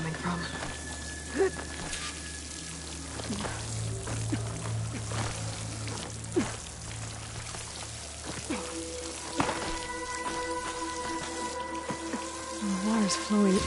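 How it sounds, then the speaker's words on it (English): Water pouring and splashing into a rock wall near a waterfall in Horizon Forbidden West, a steady rushing wash with faint drip-like ticks, mid-distance, with game music tones above it. "The water's flowing into the wall."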